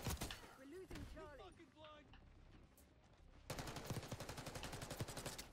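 Rapid automatic gunfire from Call of Duty Black Ops multiplayer, loud bursts of shots clustered in the second half, with someone talking over the earlier part.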